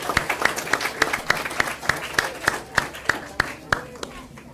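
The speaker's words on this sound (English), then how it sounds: "And one more round of applause while they're making the way for our fabulous dream catchers." Applause at a school board meeting: a small group claps in a fairly rhythmic, distinct pattern of individual sharp claps, close and moderately loud, with soft background voices, tapering off near the end.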